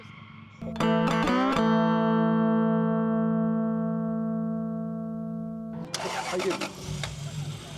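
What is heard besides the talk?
V8-swapped Toyota AE86 engine starting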